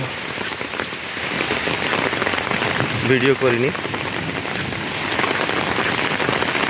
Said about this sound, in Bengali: এখনও ওই যে বলে মুসলধারায় বৃষ্টি নামে আকাশ বাতাস কালো করে যেরকম বৃষ্টি নামে সেই রকম বৃষ্টি হচ্ছে